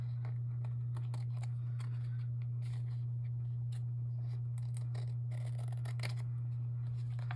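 Scissors snip paper repeatedly in short, irregular crisp cuts, close by, over a constant low hum.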